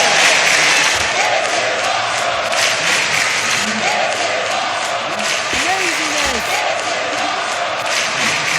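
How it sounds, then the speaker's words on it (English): A wrestling arena crowd roars steadily and loudly at an indie wrestling show, a dense wall of cheering and shouting that stays sustained throughout, with some faint tonal voice sounds rising briefly within the din. "The crowd is going nuts."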